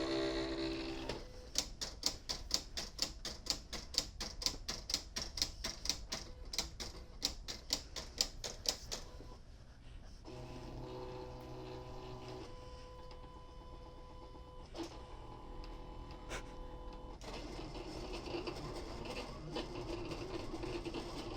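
Silhouette cutting machine slicing glitter heat transfer vinyl, a rapid rhythmic train of ticking strokes followed by quieter whirring carriage movements and motor tones, faint and close.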